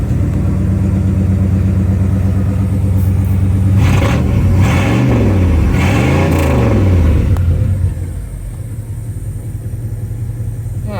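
A 1986 Oldsmobile Cutlass Salon idles loudly up close with a steady low rumble, swelling through two brief rises and falls in pitch midway before easing back to a quieter, even idle.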